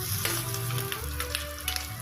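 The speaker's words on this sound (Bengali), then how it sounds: "এবারে আস্তে আস্তে করে এটাকে ভাজে দেব, যাতে ভিতরটা যাতে কাঁচা না থাকে।" Fish egg fritters (macher dimer bora) fry in hot oil in a pan, making a soft, steady sizzle with scattered small pops and crackles, fairly quiet and close, without talking.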